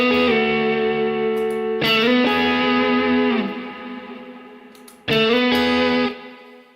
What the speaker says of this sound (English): Listen for the click as I press the pedal to make this adjustment.